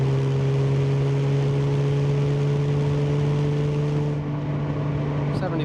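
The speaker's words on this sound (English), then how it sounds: "Lay into the carburetors a little bit." A 1971 Jaguar E-Type Series 2 with a 4.2-litre straight-six and carburetors accelerates under load on the road, a loud steady engine drone with a strong low hum that holds throughout, heard from inside the car.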